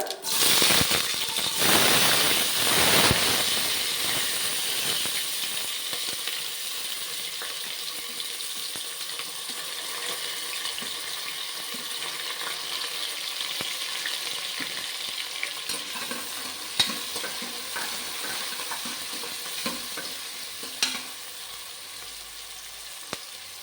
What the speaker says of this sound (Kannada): ಇದಕ್ಕೆ ಇವಾಗ ಜೀರಿಗೆ ಹಾಕ್ಕೊಳ್ಳೋಣ ಈರುಳ್ಳಿ ಹಾಕ್ಕೊಳ್ಳೋಣ